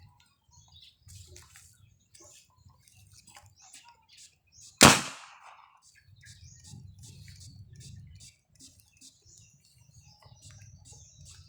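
Homemade cannon built from an evaporated-milk can fires once with a sharp, loud boom that decays quickly, set against quiet background noise and faint chirping.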